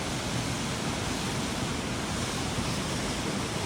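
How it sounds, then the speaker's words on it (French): A small waterfall on a walk near Leenane, rendered as a steady, even rush of falling water with no breaks, moderately distant and without any voices. "Petite cascade."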